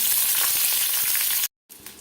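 Green chilies fry lightly in oil with a loud, continuous close sizzle that cuts out briefly near the end before resuming.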